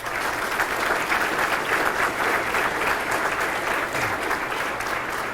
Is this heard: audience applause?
yes